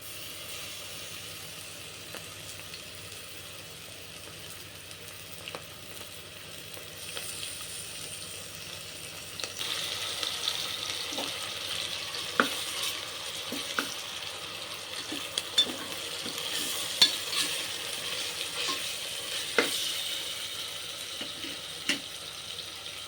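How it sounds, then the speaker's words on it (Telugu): Ginger paste frying with onions in a pan, a soft steady sizzle with scattered clicks and light scrapes, growing a little louder and busier toward the end, no voices. "నేను అల్లం పేస్ట్ వేస్తున్నాను."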